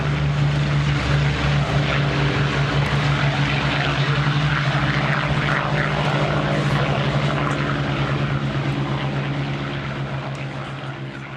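A Hawker Hurricane propeller fighter at an airshow holds a loud, continuous engine drone with a steady low hum, slowly fading near the end.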